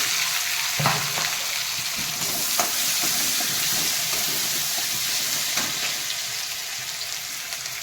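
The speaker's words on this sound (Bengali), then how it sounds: "একটু ভাজা ভাজা হয়ে যাক" Vegetables and prawns fry in a pan with onion, tomato and garlic, giving a continuous close sizzle and hiss with occasional sharper crackles and stirring scrapes.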